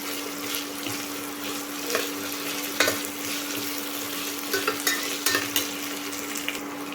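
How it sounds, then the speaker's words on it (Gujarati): Garlic chutney being stirred into onions and potatoes cooking in a pan for spicy dal khichdi, with a steady sizzle and scattered spoon scrapes and taps throughout. "મિક્સ કરી લઈશું"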